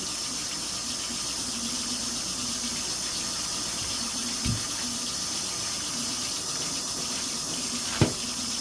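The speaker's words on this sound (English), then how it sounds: "Just going to use dish soap just to get any dirt and grime off it." Tap water runs in a steady, even rush at a kitchen sink while a carbon steel hunting knife is washed with dish soap, with a couple of brief knocks against the basin near the end.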